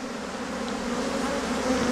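Dense, steady buzzing of a large honeybee swarm at a hive that has swarmed and changed queens, a continuous close drone filling the air with no voices.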